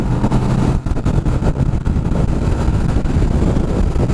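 Kawasaki Vulcan S650 midweight cruiser motorcycle engine running steadily at close range, a loud continuous rumble mixed with heavy wind buffeting.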